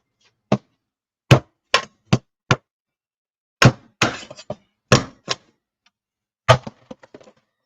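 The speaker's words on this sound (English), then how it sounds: "So I wonder if I hit those with a hammer, if they'll snap off" A hammer strikes something hard in about a dozen sharp, close thunks and whacks, spaced irregularly with brief quiet gaps and a few quick double hits.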